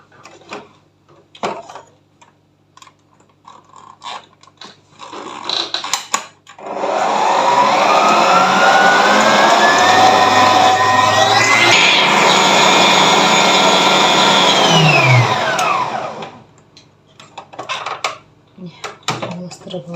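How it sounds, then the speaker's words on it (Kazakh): An electric mixer beats eggs and sugar for a gluten-free roll in a home kitchen, a steady whirring drone for about ten seconds with shifting pitch, while faint kitchen clatter and quiet movement come before and after. "Жұмыртқа мен қантты жақсылап тұрып миксерден айналдырып аламыз."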